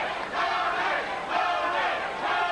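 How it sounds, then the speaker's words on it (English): Boxer Tony Martin's corner chanting his name at a 1997 bout against Julio Cesar Chavez, heard as rhythmic crowd-like shouting in repeated bursts, loud and close, swelling and fading across a few seconds. "You can hear his corner chanting his name"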